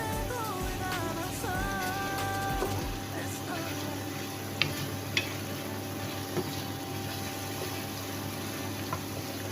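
Italian tuna egg fried rice is stirred and scraped in a hot pan, a soft continuous sizzle with light clinks of the utensil, while a person speaks over the cooking.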